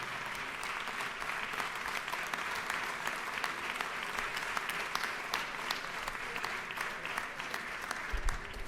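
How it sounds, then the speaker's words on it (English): Steady, sustained applause fills the Georgia House chamber for the doorkeepers, many hands clapping together at a moderate distance for several seconds. "Can we please applaud them for the great job they do here?"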